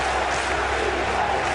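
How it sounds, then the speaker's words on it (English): Patriots supporters fill a football stadium with a continuous, loud mass of chanting and cheering, a thick crowd roar that stays steady from start to finish. "Boy, this Patriots crowd just took over the stadium."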